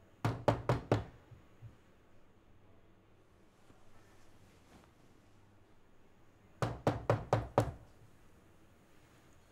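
Knocking on a door in two bursts of four or five sharp, loud raps, separated by several seconds of quiet room tone, with no talking.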